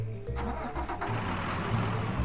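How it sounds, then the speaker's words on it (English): Truck engine in the video game Mafia 3 cranking and firing up, a short starter whir followed by the engine catching and settling into a steady mid-pitched idle rumble. "Lincoln, how about you turn on the engine first?"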